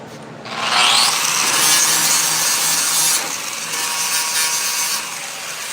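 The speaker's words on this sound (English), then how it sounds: "So I'll take this sanding pad." Steady, abrasive sanding with a sanding pad across the metal body panel of a 1968 Pontiac LeMans, continuous and loud for several seconds, with slight shifts in intensity as the pad moves.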